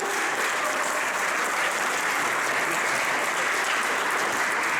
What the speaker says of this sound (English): Big round of applause for you, please.